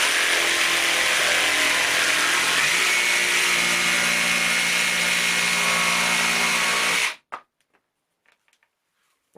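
A CAT 18V brushless jigsaw saws through pallet wood with a loud, continuous buzzing rasp for about seven seconds, then cuts out abruptly to near silence with a few faint knocks.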